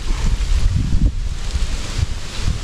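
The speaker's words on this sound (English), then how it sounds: "It's pretty windy." Steady gusty wind buffets the microphone, a low rumbling roar that swells and fades with no voices.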